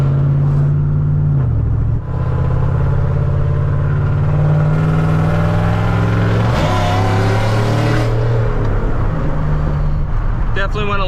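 A Chevrolet Silverado truck with a swapped 6.0L LY6 V8 and a new cam pulls hard, the engine holding a loud, steady drone that climbs in pitch, dips briefly, then rises again as it revs through the gears up close.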